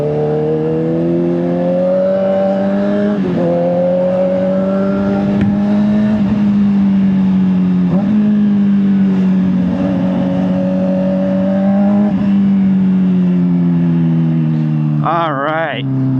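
A 2024 Honda CBR600RR motorcycle engine drones steadily while riding, its pitch rising and dipping through gear changes as it accelerates, loud and close with wind noise, and a short sharp whine near the end.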